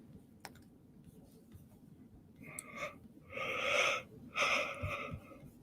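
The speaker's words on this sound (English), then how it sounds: "I'm just a little sleepy. I hate that I yawn like that." A person lets out a long, breathy yawn close to the microphone, starting with a soft click and ending in two strained, wheezy exhalations.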